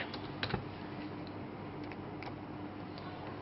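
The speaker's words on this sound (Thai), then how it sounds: "ให้ผู้ใช้งานกรอก username และ password" Faint, sparse keyboard tapping as a username and password are entered on a computer, with a short cluster of keystrokes early and a few isolated clicks afterwards over quiet room tone.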